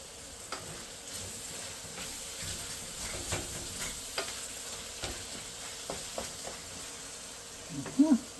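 Tomatoes sautéing in a pan for ginisang upo, a soft steady sizzle with intermittent spatula scrapes and stirring knocks, fairly quiet, with a brief voice near the end.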